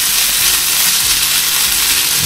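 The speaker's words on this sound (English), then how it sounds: "So the onions have been frying first, always put the onions in first, get them caramelised." Steady, loud sizzling of onions and chunky mince frying in a hot pan, a continuous crackling hiss with no voices.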